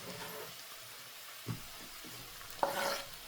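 Tomatoes and green onions go into a hot pan and set off a quiet, steady sizzle, with a soft stir near the middle and a sharper burst toward the end as the vegetables hit the oil.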